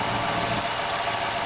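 A Jeep Grand Cherokee engine idling after a spark plug change, with the engine cover off, gives a steady, even, close-up hum with light mechanical vibration and no talking.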